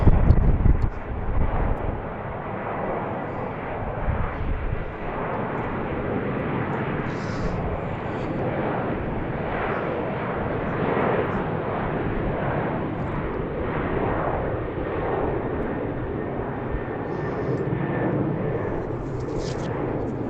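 A Southwest airliner departing BWI airport in Baltimore, its jet engines producing a broad, sustained roar that holds steady for the full twenty seconds, heard from a distance with some wind buffeting at the start.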